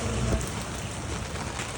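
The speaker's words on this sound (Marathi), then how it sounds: "हे बघा पाऊस थांबतच नाहीये" Heavy rain pours down in a dense, loud, steady wash of drops with no talk.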